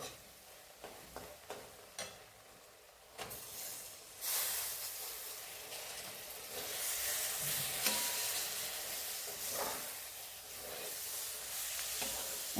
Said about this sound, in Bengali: গ্যাস সিম করে এটা একটু ভেজে নিই